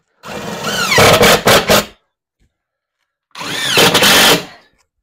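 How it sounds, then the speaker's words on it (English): Power drill drives stainless wood screws into a new wooden seat base on a Yamaha G16 golf cart, two loud close bursts of whining motor with rising pitch, separated by a brief silence. "I'm just gonna do some stainless wood screws up into that"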